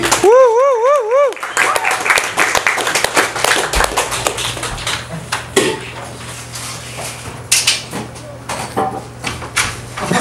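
A lively audience claps for a poet at a reading event, sharp scattered handclaps filling the room after a voice lets out a warbling whoop at the start.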